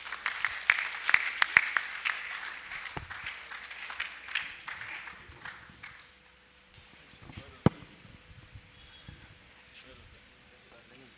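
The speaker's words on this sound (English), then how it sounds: "shall we give an ovation and a round of applause for that powerful presentation?" An audience at an international engineering conference gives a round of applause. A dense burst of clapping fades over several seconds, leaving a quiet room with a few scattered knocks and sparse sounds.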